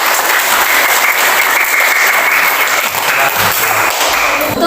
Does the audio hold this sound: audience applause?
yes